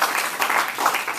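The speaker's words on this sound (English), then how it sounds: "Give yourself a round of applause." A university communication class gives itself a round of applause, a short burst of lively clapping from a roomful of students that swells and fades slightly over about a second.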